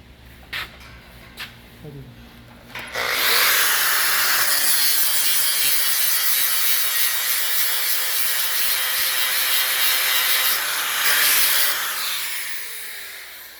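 An angle grinder grinds a weld off a metal deck rail, a loud continuous close whine sustained for about ten seconds after a few light knocks.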